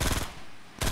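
Rapid bursts of Fortnite Battle Royale gunfire, loud dense rattling shots at the start, a brief gap, then firing resumes abruptly.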